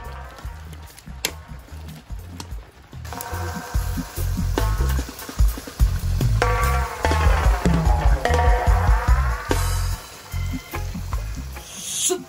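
Pressure-cooked beef lung sizzles and crackles in hot oil in a pan, with stirring scrapes and clatter. The frying swells loud and stays busy for several seconds after a quieter start.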